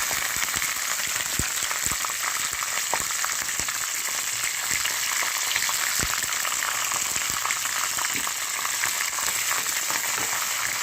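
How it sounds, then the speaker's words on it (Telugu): Chopped green chillies frying in hot oil with chana dal and dried red chillies, a dense continuous crackling sizzle with scattered sharp pops, close and fairly loud throughout, no voices. "తరిగి పెట్టుకున్న పచ్చిమిరపకాయలు వేసేసుకుని కొంచెం వేగాలి."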